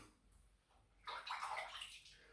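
Cold water splashed onto the face during a wet shave with a safety razor: a quiet trickle, then a louder close sloshing burst lasting about a second, with no talking.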